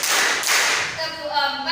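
A classroom group claps in a set three-clap pattern, sharp close-up hand claps filling a broad burst, with a voice starting to speak as the claps end.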